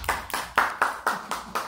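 A few hands clap for a student in a classroom, seven sharp separate claps at a quick, slightly uneven pace, close and clear with no talking.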